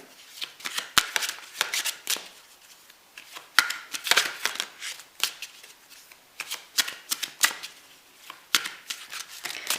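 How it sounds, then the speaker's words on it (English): Oracle cards are shuffled and pulled from the deck at close range, producing a steady series of sharp riffles, flicks and papery slaps in a loose rhythm, clear and fairly loud, without any voices. "I'm going to pull some more oracle cards, and then we'll also pull some tarot."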